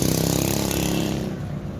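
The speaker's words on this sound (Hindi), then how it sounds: "ये बाइक वाला भाई आ रहा भगाते हुए, तो ये शोर कर रहा है, वो भी विदाउट साइलेंसर" Motorcycle running without a silencer on a highway, a loud, raw, throbbing engine roar close by that fades slightly as it speeds away.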